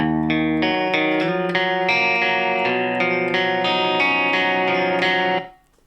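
Distorted electric guitar plays a quick melodic phrase of many picked notes, loud and close, with effects and reverb, ending in a brief fade.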